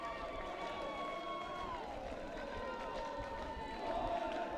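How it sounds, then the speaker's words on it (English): Haudenosaunee supporters cheer and sing in the stands at a 2025 World Lacrosse men's U20 quarterfinal against Puerto Rico, a steady distant crowd roar with sustained chant-like tones, heard under continuous commentator talk. "I can hear Haudenosaunee fans cheering in the crowd, singing, absolutely loving what their man is doing"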